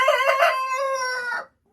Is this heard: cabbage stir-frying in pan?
no